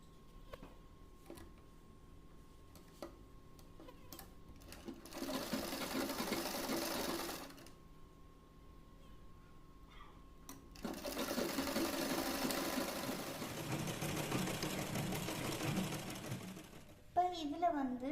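A sewing machine stitches fabric during top stitching, running in two close bursts of steady motor whir, the second longer. Quieter ticking and a speaking voice fill the gaps between the runs.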